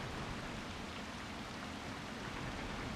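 Steady rainfall in the video game Wild Hearts, an even broadband hiss of rain on surfaces that holds constant and fairly faint throughout, with no voices over it.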